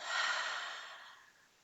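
A single long, deep exhale through an open mouth during a calming yoga breathing exercise, a breathy rush that starts strong and slowly fades over nearly two seconds, close and alone.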